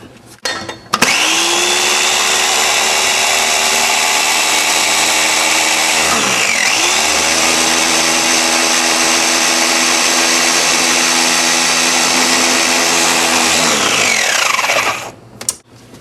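A food processor blending olive oil and lime marinade: the motor spins up with a rising whine, holds a loud steady whir, dips briefly around six seconds, then winds down near the end.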